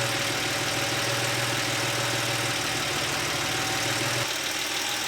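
An air-cooled 3.2-litre Porsche 911 G-Model Carrera idles at about 800 rpm, a steady close, loud mechanical hum with an even low throb and a faint rising-falling waver in the engine note.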